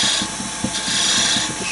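Wood turning on a lathe with a spindle gouge while roughing out a chess queen's head: a steady, loud, close hiss of the cutting edge over a continuous whirring motor, with faint rhythmic bumps.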